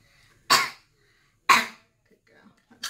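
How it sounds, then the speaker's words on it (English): A young child gives strong coughs into a cough plate during a cystic fibrosis clinic test. Two sharp, loud coughs about a second apart, close to the microphone, then a faint third begins. "That second one's a nice strong cough."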